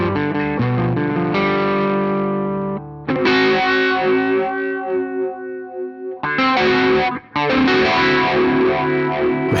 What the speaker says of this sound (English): keep the phase 90 on and you just strum it a couple of times